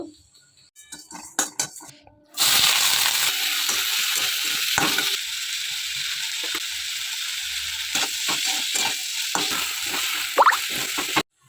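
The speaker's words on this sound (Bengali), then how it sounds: "এখানে এই যে কড়াই বসিয়ে দিয়েছি, একটু ধনে জিরে ভাজা করে নেব" Coriander and cumin seeds frying in a hot wok, a sudden loud sizzle bursting in after a few light clinks and taps, then crackling steadily with occasional scraping stirs and metal knocks; no one speaks.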